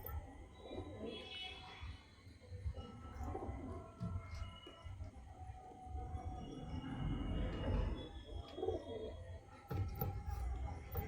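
Pigeons coo softly at a loft in a low, murmuring, intermittent series. Faint background rumbling runs underneath, and the birds stay quiet but close.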